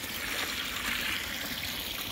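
Clear water pumped out in great excess at the fountain source in The Alnwick Garden, a steady close rushing and gushing flow with no pauses.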